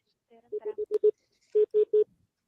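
Touch-tone dialing at the start of a recorded phone call, eight distinct DTMF key tones in two quick bursts, five tones then a short pause and three more, clear and close with no talking.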